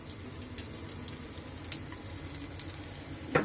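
Ginger and garlic sizzling in a pan while cooking chicken with asparagus, a steady soft frying hiss with faint scattered crackles and a brief clink near the end.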